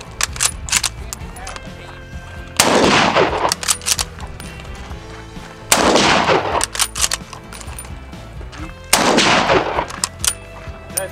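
Three loud, close rifle shots ring out about three seconds apart, each with a long echoing tail, while mechanical clicks and handling noise fill the gaps between them.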